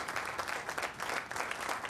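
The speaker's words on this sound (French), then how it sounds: "la famille royale applaudit cette tribune où sont installés les invités d'honneur de cette année" Members of the royal family applaud the stand of honoured guests during the Belgian National Day parade, steady outdoor clapping that continues throughout without a break.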